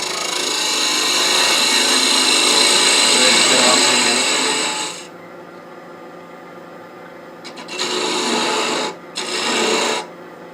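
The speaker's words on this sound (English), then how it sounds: "let's take some sandpaper out. I'll do that off the camera and sand this out a bit" Sandpaper scrubs a wooden gnome ornament knob in a steady, close rasping stretch of about five seconds, followed after a pause by two shorter bursts of sanding.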